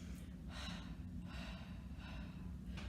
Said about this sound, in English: just breathing out in pulses